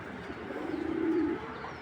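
A single rolling coo from a racing pigeon swells and fades at close range, standing alone against a soft steady room hiss.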